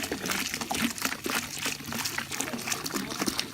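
Very hot tap water pours from a sink into a container for homemade laundry soap, a close, continuous gurgling trickle and splash.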